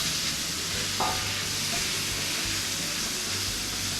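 Thin-sliced meat and garlic sizzle in a pan at a camp stove, a steady close frying hiss with a brief scrape of stirring partway through.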